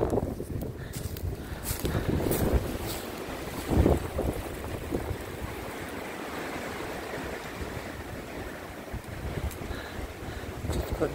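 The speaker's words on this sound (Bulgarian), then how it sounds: "Нямаме такова време и голям вятър брули." Strong wind buffets the microphone outdoors near the sea, a constant gusty roar with rumbling bursts and a louder gust partway through, with no clear talk.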